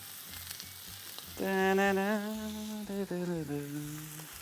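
Anchovies and spaghetti cook in a pan with a steady, soft sizzle throughout, while a voice sounds over the middle of it.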